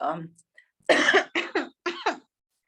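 A few sharp coughs close up in quick succession, a burst then two pairs, after a brief vocal sound at the start.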